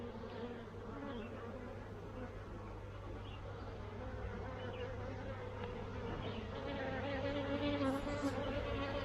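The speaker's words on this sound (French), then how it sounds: "Il y a de l'abeille, hein." Swarming honeybees buzz in a dense, continuous drone at a hive during a springtime swarm on Réunion Island, close and steady, growing slightly louder toward the end with no talking.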